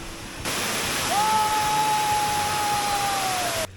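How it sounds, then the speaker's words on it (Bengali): Rupsi waterfall on the Komoldoho trail gives a constant broadband roar of falling water that holds steady for a few seconds. A thin, sustained whistle-like tone rides over it midway. "আমার পিছনে হচ্ছে রূপসী ঝর্ণা"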